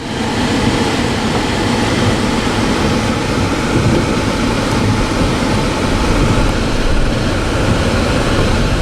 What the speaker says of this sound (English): the train crosses over the UP Omaha subdivision through Loveland